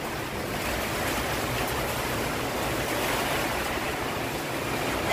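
Strong stormy wind blowing with rain outdoors, a steady, loud, continuous roar that holds throughout without a break, close to the microphone and with no speech.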